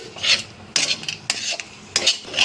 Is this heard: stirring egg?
yes